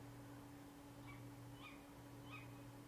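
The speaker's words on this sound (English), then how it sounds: "it's a tawny owl, but I didn't know it made little twiddly noises" A tawny owl gives a few short, twiddly, high calls, faint and distant, over a steady low electrical hum and background hiss, with no voices.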